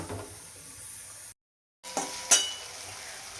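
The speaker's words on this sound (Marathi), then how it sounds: "आता आमटीला पण फोडणी घालायची" Hot oil tempering with spices for a drumstick amti sizzles softly in a kitchen pan, a faint steady hiss broken by a brief gap and a small clink, with no talking.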